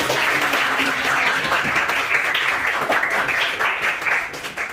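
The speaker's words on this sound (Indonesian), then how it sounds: "Kasih aplaus buat teman-teman" A group of people claps for classmates in steady, dense applause that holds close and loud for the whole stretch before thinning slightly at the end.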